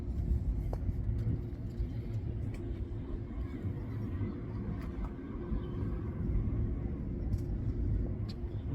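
Steady low engine rumble and road noise from a Mercedes CLA 250 4Matic with a turbocharged 2.0-liter four-cylinder, heard from inside the cabin while driving, constant and unbroken.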